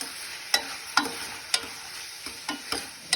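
Curry being stirred in a pan on the stove, with scraping strokes sounding at a steady rhythm over a soft sizzle, close up and with no talking.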